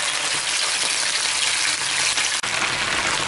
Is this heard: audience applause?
no